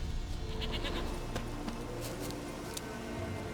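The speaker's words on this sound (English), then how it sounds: "Here, goat." Goat bleating in The Witcher 3 video game, several short bleats in a noisy outdoor game scene with ambient background sound, moderately faint.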